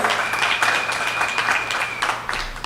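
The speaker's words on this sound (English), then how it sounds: "Give him a round of applause." Audience applause at a live political speaking event in St Augustine: sustained, fairly loud clapping from a crowd with a faint tonal hum and no talk.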